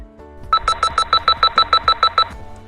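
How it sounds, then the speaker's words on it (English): A car's emergency-brake warning beeper sounds during a driving test in a Dubai test yard, eleven rapid, evenly spaced electronic beeps, loud and close, with no talk over them. "As soon as you hear the beeper sound,"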